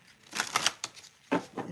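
A deck of tarot cards being shuffled by hand, several short dry riffling and slapping bursts in quick succession, close and fairly quiet, with no talking.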